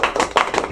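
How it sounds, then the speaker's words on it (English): A round of applause from a debate audience, heard as a few distinct, close claps in an uneven rhythm over less than a second. "Give him a round of applause, ladies and gentlemen."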